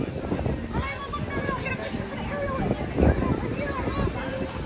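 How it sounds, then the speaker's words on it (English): Strong wind buffets the microphone outdoors at Magic Kingdom, a constant low roar and rumble with a gust swelling near the middle, while faint voices and crowd sounds drift underneath. "It is so windy over here."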